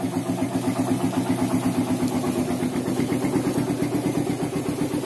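A Suzuki Satria FU motorcycle engine idles after a kick start, a close, steady rhythmic putter with even pulses and no talk.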